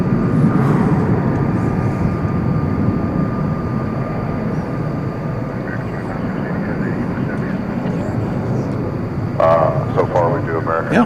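An American Airlines jet takes off from DFW Airport at night, its steady loud engine roar rumbling without a break, with a voice talking briefly near the end.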